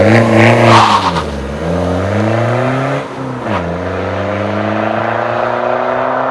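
A BMW 1.8-litre four-cylinder car engine revs up and down a few times, close and loud, settling into a steady idle drone between revs.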